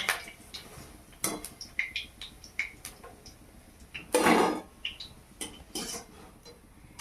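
Fried prawn pakoras being scooped out of hot oil, heard as a series of sharp metal clinks and scrapes of a utensil against the pan, with a brief louder rattle midway.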